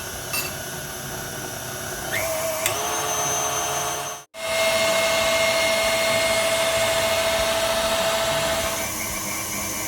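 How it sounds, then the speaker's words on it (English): An electric mixer whips egg whites for a cheesecake, giving a steady close whine that briefly cuts out and then resumes at a constant pitch. "I'm going to start whipping the egg whites."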